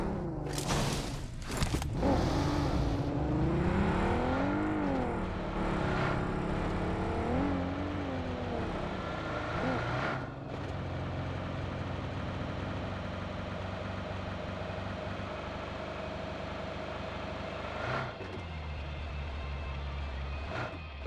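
A car engine in the BGMI video game starts up after a couple of sharp clicks, then revs with rising and falling pitch before settling into a steady idle drone, fairly close and alone.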